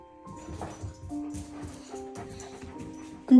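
A dog whimpers and whines in a series of short, high, wavering cries close by, ending with a louder yelp.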